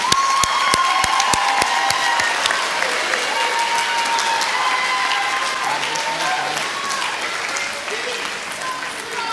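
A crowd at an eighth grade recognition ceremony applauds with a dense, sustained patter of clapping that carries on for the whole stretch, with some voices mingling in the background.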